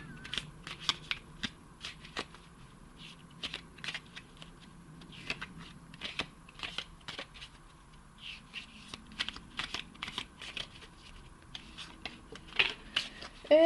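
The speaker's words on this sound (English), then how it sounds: "I'm going to shuffle the tarot leaf cards behind the camera" Rapid riffling bursts of tarot cards being shuffled, repeating in quick clusters with brief pauses, close by and fairly quiet, no talking.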